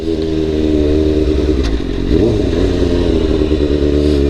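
A motorcycle engine runs steadily at close range, with a soft clunk as a gear is shifted and then revs climbing briefly before settling back into an even drone.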